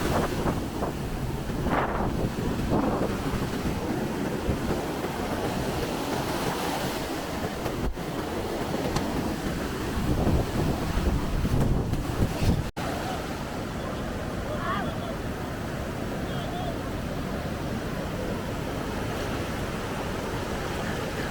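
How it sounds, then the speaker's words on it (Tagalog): Ocean surf at Baler beach, a steady loud broadband wash of waves breaking and rolling in, with wind buffeting the microphone and brief voices audible in the first half. "Lumakas na naman po mga kaibigan ng alon"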